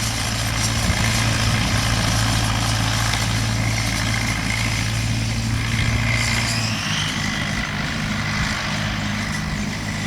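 A vintage Nuffield tractor engine drones steadily while pulling chain harrows across a field, a loud, continuous low rumble with no speech, its pitch dropping slightly partway through.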